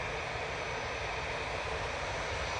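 An aircraft auxiliary power unit runs at Manchester Airport, giving a steady, even roar with a constant hiss, unchanging throughout and with no voices.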